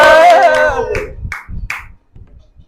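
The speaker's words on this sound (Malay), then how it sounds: "Tepuk tangan semua" A class clapping hands during a micro-teaching lesson, with a voice speaking at the start and then a few loud bursts of clapping in a ragged rhythm that fade out.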